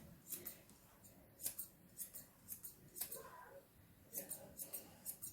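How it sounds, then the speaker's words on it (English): Scissors snip repeatedly around a dog's head as its fur is trimmed by hand, the crisp close cuts coming in quick uneven bursts. "I'm not going to use the clippers on him today. I'm just going to trim it."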